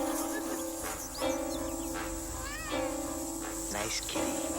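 A cat meows repeatedly, several drawn-out cries at moderate volume from fairly close, with a steady hum underneath.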